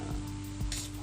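Papaya noodles stirred and frying in a pan, a steady close sizzle with soft scraping stir strokes and a light metallic clink.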